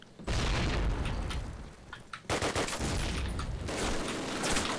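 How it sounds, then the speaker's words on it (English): Rapid machine gun bursts and booming gunfire from a Call of Duty: United Offensive team deathmatch ring out in loud, sustained volleys, with a brief lull before another barrage. "Ah, oh, God, that freaking machine gun!"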